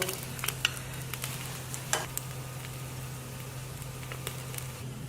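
Steady sizzling of egg batter poured into a pan-fried flatbread, with scattered crackles and pops over a constant low hum.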